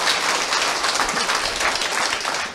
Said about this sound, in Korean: 그래서 우리 모두를 위해서 힘찬 박수 보내주시기 바라고요